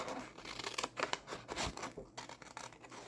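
Scissors snip by hand around a paper picture for a collage, making close, quiet, irregular cuts mixed with paper rustle and scratching, with no talking.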